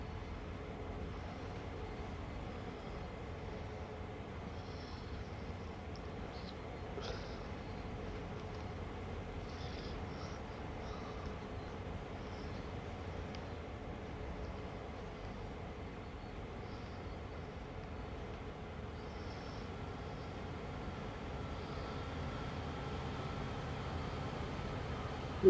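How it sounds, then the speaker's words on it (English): A train rolls past a locomotive cab on a rail line, a steady, loud, broadband rumble and rush that holds evenly throughout with no breaks. "I thought there was another train going by me. It's pretty fucking loud."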